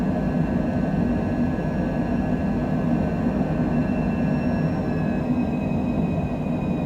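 Cessna Longitude business jet climbing out after takeoff from Las Vegas, a steady loud broadband roar with a faint high whine running through, heard from inside throughout.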